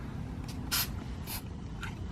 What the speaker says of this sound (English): I'm going to go ahead and spray a little color in there